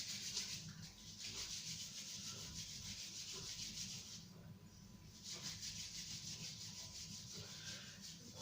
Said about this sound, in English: Rub our hands, just a bit of Daoin before we finish